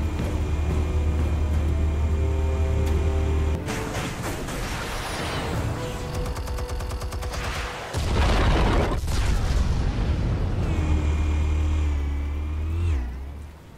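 Heavy booming detonations and bursts of gunfire in the Batman Telltale video game, set against a loud, low rumbling background, with big broadband blasts around the middle of the clip and steady droning between them.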